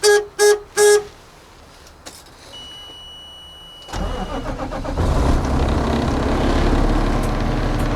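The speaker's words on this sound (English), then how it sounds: "we always want to honk our horn before we start the vehicle" Three loud, short garbage truck horn honks in quick succession, then quiet clicks and a whine before the truck's large engine starts and settles into a steady rumbling idle.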